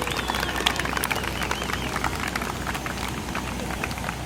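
Audience applause after a fire sprinkler burn demonstration at Rollins College, a steady patter of many hands clapping outdoors at moderate distance, continuous throughout.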